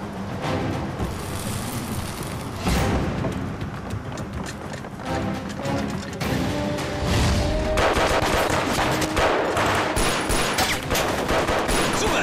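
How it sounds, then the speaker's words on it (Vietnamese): Gunfire in an action film scene, rapid bursts and shots layered with a dense soundtrack of music and effects, loud and continuous throughout. "họ nghe thấy tiếng súng"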